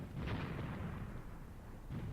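Distant gunfire in the tactical war game Graviteam Tactics, a steady rumble of overlapping shots and low booms across the whole stretch, with a fresh burst near the end.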